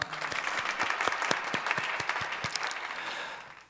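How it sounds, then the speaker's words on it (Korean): A congregation claps in praise at an early-morning joint prayer service, a steady and moderately distant patter of many hands with a few sharper rhythmic claps standing out before it fades at the end. "우리 주님께 영광의 박수 올려드리기 원합니다"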